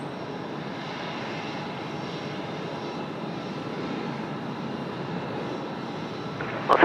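A Qantas jet airliner lands at Sydney Airport, a steady, broad engine roar heard from a distance that holds evenly throughout, with a few sharp knocks close to the microphone at the very end.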